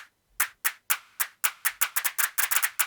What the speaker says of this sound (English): you've got a whole selection of claps I just put in